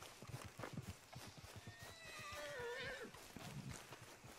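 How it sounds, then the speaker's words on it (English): A horse in the video game Red Dead Online gives a loud, wavering whinny midway through, with soft hoof clip-clops thudding steadily before and after it. "Get me an old horse here."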